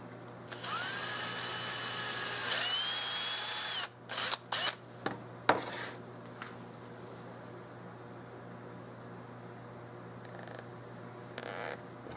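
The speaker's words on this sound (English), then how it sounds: "I have to bore out the hole to get the thing in there" A small power drill whines for about three seconds boring out a screw hole in a 16 gauge side-by-side shotgun, pitch shifting under load, then a few short bursts and clicks follow before quiet.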